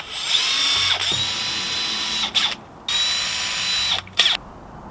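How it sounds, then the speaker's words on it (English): Tiny drill bit boring in a storage bay turned utility room: a steady high-pitched power-drill whine runs in long bursts, stopping twice briefly and ending with a short stop-start pulse, close and loud with no talk. "See how drilling with this tiny little drill bit works."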